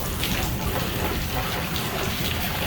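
Water pouring steadily into a container for farm animals outdoors, a continuous broadband splashing rush with no pauses, fairly close and even in level.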